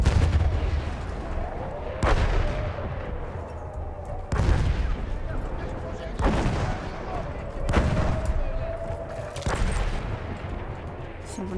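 Battlefield 1 gameplay: heavy gunshots and artillery booms land about every two seconds, each a sharp loud crack with a rolling tail, over a constant rumbling battlefield backdrop.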